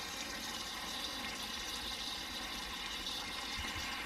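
Water runs steadily from a tap in a mobile home under renovation, a constant broadband hiss and rush at even level throughout, fairly close, with no speech.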